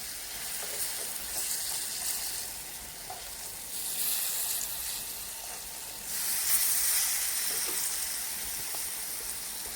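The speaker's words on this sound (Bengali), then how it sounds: "একদম সামান্য তেলে আমি ভাজছি এগুলো" Palm fruit fritters (taler bora) sizzle in a small amount of oil, a steady close hiss with occasional light crackles that swells louder for a stretch, with no voices.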